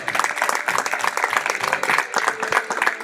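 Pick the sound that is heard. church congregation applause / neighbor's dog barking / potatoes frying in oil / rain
church congregation applause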